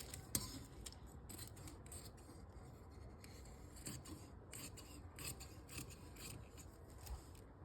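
Scissors snip through salwar fabric at the shoulder in a quick run of crisp, close, quiet cuts with faint rasping between them.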